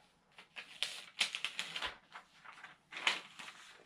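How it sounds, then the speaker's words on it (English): Protective carrier sheet being peeled off patterned Cricut iron-on vinyl after pressing, a series of close, crackly tearing and rustling bursts with brief gaps, fairly quiet, no talk. "I'm going to peel back up our protective sheet."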